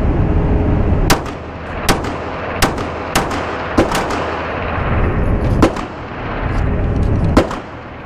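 Loud, close pistol shots from a PSA Dagger compact Glock 19 clone fired outdoors, about nine sharp cracks at uneven intervals over steady background noise.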